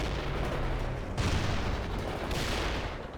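Gunfire in the 2007 video game World in Conflict: a sustained, moderately loud barrage with two sharper bursts about a second apart, no voices.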